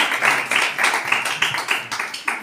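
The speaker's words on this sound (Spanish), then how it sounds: "Un aplauso." A small audience at a book presentation in a cultural association hall gives a brief round of applause, with distinct, fairly rhythmic claps from a modest group, close and moderately loud.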